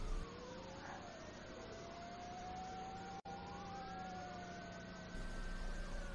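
Fire engine siren wailing steadily in rising and falling sweeps, fairly loud and continuous, with a brief dropout midway and no talking.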